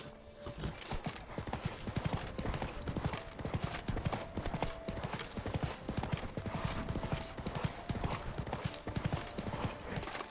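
Roach, Geralt's horse in The Witcher 3, gallops with a rapid, continuous clip-clop of hooves, steady and fairly close, over ambient game sound for about ten seconds.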